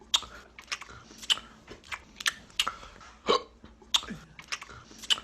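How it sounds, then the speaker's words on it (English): Looped montage of lip smacking sounds from a film, a string of short, wet clicks and smacks at an uneven rhythm with a half burp, half hiccup among them, close and fairly quiet. "So I just put together all those lip smacking moments into a little montage here."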